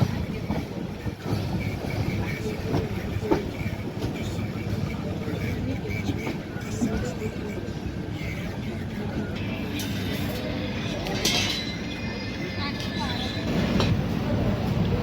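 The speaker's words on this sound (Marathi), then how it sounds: "निबोरा स्टेशनवरती आपल्याला छपरा ताप्ती गंगा एक्सप्रेसने काय जबरदस्त ओव्हरटेक मारलेला आहे" The Chhapra Tapti Ganga Express overtakes at Nibora station, a continuous loud rumble and clatter of rolling wheels and carriages heard close from a moving train, with brief higher squeals and rattles midway.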